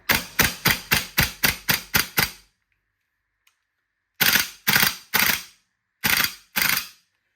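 An E&L QBZ-191 airsoft rifle firing single shots, a fast run of eight sharp mechanical cracks, then a pause and five more spaced shots, loud and close with no talking.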